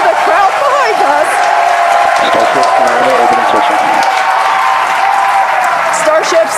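A large crowd cheers and shouts continuously at a SpaceX Starship rocket launch, a loud dense roar of many voices with no pauses.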